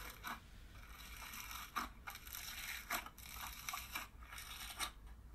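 Crunchy slime is squeezed and crushed close up, giving repeated crackling crunch bursts roughly every second over a quiet background, with no voices.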